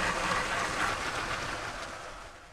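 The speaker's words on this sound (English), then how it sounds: "Very noisy, these trains." A Lego toy train runs fast along its plastic track, giving a steady, fairly loud rattling hiss with faint clickety-clack that eases off slightly toward the end, with no voices.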